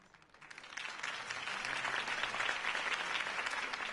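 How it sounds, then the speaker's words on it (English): A crowd applauding steadily in the game Batman: The Telltale Series, the clapping swelling quickly from a light start to a full, sustained roar that holds to the end. "If only Mr. Wayne, my campaign's largest backer, could have heard that applause"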